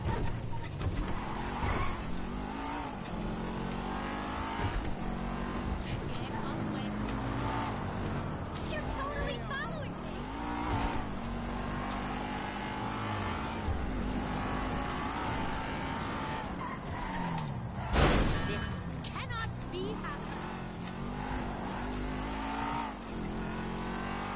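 In GTA V a car drives with a continuous engine drone that revs up and down, broken by tire skids and one sharp impact, loud and constant for the whole stretch.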